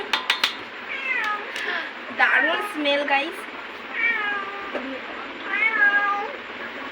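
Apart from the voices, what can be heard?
cat meowing for food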